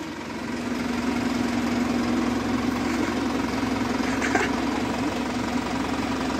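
Ferguson and New Holland 90-horsepower tractors strain against each other in a sled-pulling race, a steady loud diesel engine drone holding throughout with a brief sharper knock near the end.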